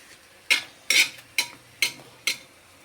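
Tortang alamang, a shrimp paste omelette, frying in a pan, heard as five sharp, evenly spaced bursts of sizzling and scraping against a quiet background.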